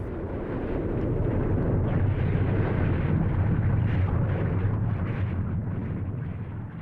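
A continuous, heavy rumbling roar fills the whole stretch, deep and dense like a massive eruption or explosion rolling on without pause.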